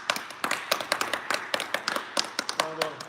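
A small group claps in a brisk, uneven burst of sharp hand slaps lasting a few seconds during a shop talk show, with a faint voice coming in near the end.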